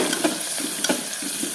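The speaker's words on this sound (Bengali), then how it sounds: "এখন আমি নাড়াচাড়া করবো।" Carrots, beans and peas seasoned with salt and turmeric fry in a pan while being stirred, giving a short close burst of sizzling hiss with a few quick scraping strokes.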